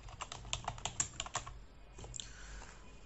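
Someone types on a computer keyboard in a quick, uneven run of light clicks and key taps. The sound is faint and close, then trails off into softer, sparser presses.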